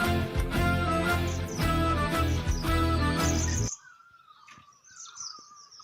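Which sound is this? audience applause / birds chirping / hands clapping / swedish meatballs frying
birds chirping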